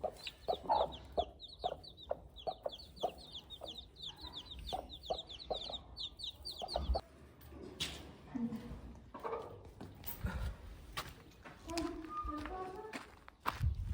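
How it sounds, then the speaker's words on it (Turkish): Chickens fight, clucking and squawking excitedly in quick bursts with scuffling around them, close by, while a person talks intermittently. "Şu tavuklar yine kavgaya mı girdi?"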